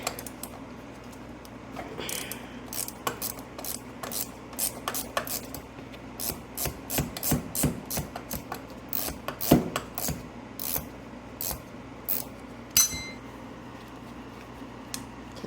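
A wrench works a 9/16 inch nut loose on a Singer 201-2 sewing machine being taken apart, giving a long run of sharp, close metallic clicks and ratcheting scrapes in irregular bursts, with no talking.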